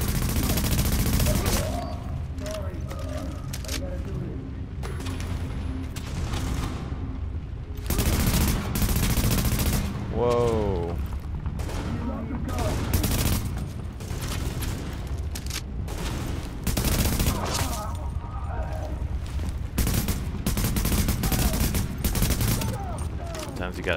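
Bursts of automatic gunfire from The Division, loud and near, come in repeated volleys with short pauses across the whole stretch, over game music and ambience, with a brief shout partway through.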